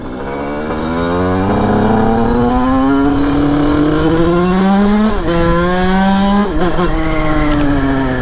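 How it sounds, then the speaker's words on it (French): A 100cc 2Fast scooter engine fitted with its stock air box revs hard and loud, its whine climbing steadily, dropping briefly and then surging again between blips of the throttle. "On dirait une moto sportive le bruit avec la boîte air."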